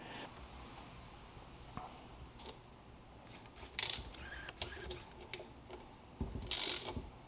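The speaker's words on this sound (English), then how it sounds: "we're going to torque these down to 8 foot-pounds" Torque wrench on the power valve cover bolts of a 2004 KTM 85sx dirt bike during a top-end rebuild, giving quiet ratcheting clicks and a few sharp metallic snaps close by.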